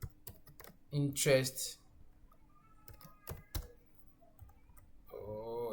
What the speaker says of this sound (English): And then you type in, then you type in total